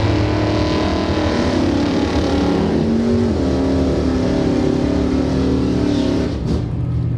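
A 1969 Chevelle and a 1955 Studebaker launch at a drag race, engines roaring loud and sustained with a rising, shifting drone, then tailing off near the end.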